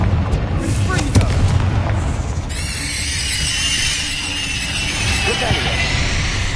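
Explosive blasts from the Confringo spell in Hogwarts Legacy, booming bursts with crackling debris over dense in-game combat noise, loud and close, with talking in the background.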